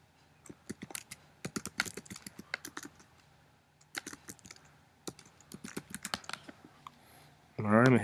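Computer keyboard keys typed in quick, irregular bursts of light clicks, close and fairly quiet, with brief pauses between runs and a louder burst of noise at the very end.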